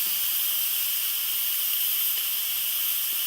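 An Instant Pot pressure cooker vents steam in a loud, continuous high hiss that stays steady and unbroken throughout, close by on a kitchen countertop.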